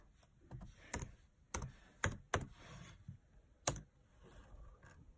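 A name typed on a computer keyboard, a few quiet keystrokes with irregular gaps, close and soft with no talk.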